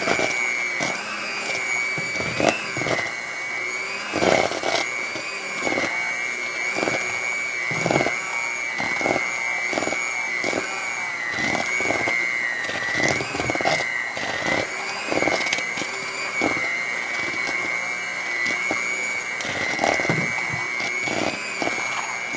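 Eggless fudge chocolate cake batter is whipped with an electric mixer, a steady loud motor whine with pulsing bursts as the beaters churn, continuous and close with no talking.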